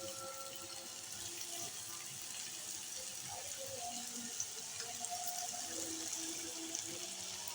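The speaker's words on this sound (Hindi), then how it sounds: "जैसे ही कुकिंग ऑयल गर्म हो जाए इसके अंदर इस तरीके से आपने एक एक करके सारे डाल लेनी है" Vegetable burger patties fry in hot cooking oil, giving a steady, faint, hissing sizzle with occasional soft pops that carries on evenly throughout.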